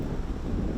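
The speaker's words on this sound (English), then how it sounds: "windy on this green pretty much constantly" Steady wind buffets the microphone on an exposed, open golf green during a tournament round, a constant low rumbling roar with no gaps.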